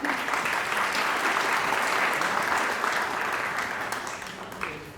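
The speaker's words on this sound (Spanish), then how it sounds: "Natalia Toscano, un aplauso por favor para ella" Steady audience applause from a crowd at a live investigative event about people who disappeared over oil in Barrancabermeja, a dense wash of many hands clapping for about five seconds and tapering slightly at the end, with no one speaking.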